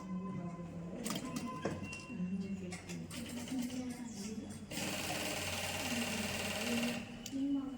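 Sewing machine stitching the lining around a kurta neckline, a steady close mechanical whir running continuously with slight changes in speed.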